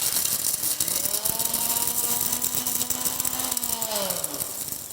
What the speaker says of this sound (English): let's take the mixie jar and we have to now grind this masala to a fine powder